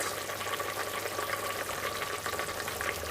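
Half an onion, chopped and salted, fries in a pan with a soft, continuous sizzle and faint crackles, quiet and close.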